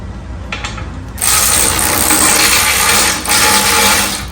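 Ratcheting clicks from a bolt being threaded into a garden tractor part, a dense steady metallic clatter starting after a brief quiet opening and running to the end with a short dip near the three-second mark.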